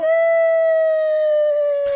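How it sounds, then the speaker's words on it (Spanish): Unused wolf howl from Minecraft, a single sustained, steady tonal howl with clear harmonics lasting about two seconds, ending in a short soft noise burst. "Por ejemplo, el lobo. Este tiene los dos siguientes sonidos en desuso."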